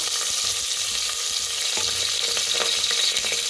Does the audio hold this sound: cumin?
yes